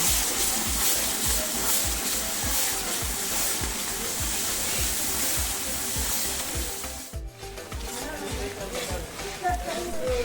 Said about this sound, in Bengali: তার উপর দিয়ে দিলাম পেঁয়াজ পেস্ট। পেঁয়াজটা বেশ ভালোভাবে ভেজে নেব।